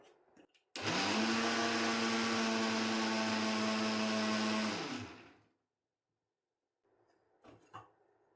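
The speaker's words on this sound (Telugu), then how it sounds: "కాబట్టి మనము మిక్సీకి వేసుకుంటే బాగుంటుంది" An electric mixie grinds turmeric and kumkum powder in one loud, sustained whir lasting about four seconds before spinning down, followed by silence and a few faint handling clicks.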